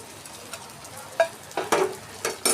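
Onions with ginger garlic paste being stirred and sautéed in a pan for a crab masala, a soft low sizzle broken by several sharp clinks and scrapes of a spoon against the pan.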